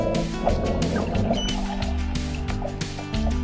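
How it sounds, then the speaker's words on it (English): Manatees chirp underwater, with short high squeaky calls repeating over gurgling, bubbling water and a low rumble, heard close through the water. "you can hear little chirps under the water"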